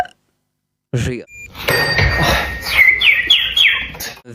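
Beatboxer imitating birdsong with his mouth: a short voiced lead-in followed by bright, rapid chirps and tweets, close and loud after a brief silence.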